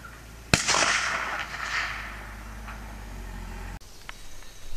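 A single sharp rifle report from a Romanian AK firing Hornady 123 grain spire point rounds at an outdoor range, loud and close, followed by a long rolling echo that fades over a few seconds.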